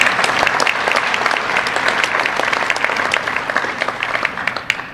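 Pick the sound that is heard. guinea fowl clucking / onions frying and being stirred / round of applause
round of applause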